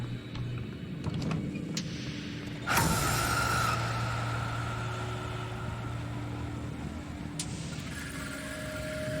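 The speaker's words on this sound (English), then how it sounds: "Is that the chopper?" A helicopter in the sci-fi game Prey gives a steady mechanical drone with low hum and a sudden loud whoosh partway through that tapers into a sustained whirring tone, heard alone without speech.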